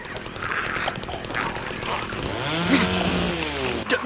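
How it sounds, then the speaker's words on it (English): Jackhammer pounding in Silent Hill 2, a dense rattling drone with game noise that swells louder toward the end, continuous and close throughout. "We get the jackhammer."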